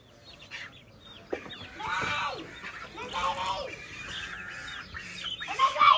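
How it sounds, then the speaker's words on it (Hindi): Ducks at a swimming pool are being rounded up and caught; short bursts of quacking and squawking come and go over about six seconds, mixed with splashing and people talking nearby. "डक्स को पकड़ो जल्दी से, पकड़ लो जल्दी, लेके आओ डक्स को।"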